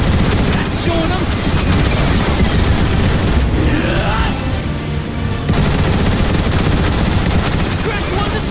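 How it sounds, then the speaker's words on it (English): Mounted turrets pour out dense, continuous rapid gunfire at Decepticon Seekers in the Transformers War for Cybertron game. The loud fusillade runs almost unbroken, with a brief dip midway, and voices shout over it. "I think you can take them out with the gun emplacements"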